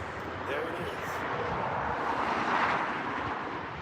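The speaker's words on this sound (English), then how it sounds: "That's a much smaller plane than the last one." A small fixed-wing plane flies over the Grand Teton area, a steady broad engine drone that swells slightly toward the middle and holds throughout, with faint wind noise.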